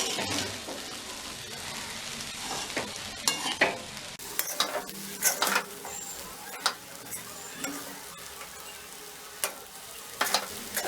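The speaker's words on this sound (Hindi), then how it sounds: "ये चावल हम अच्छी तरह से सब सब्जियों के साथ मिक्स कर लिया है।" A spoon stirs vegetable pulao rice in a pan, giving soft scraping strokes and scattered sharp clinks over a faint background sizzle.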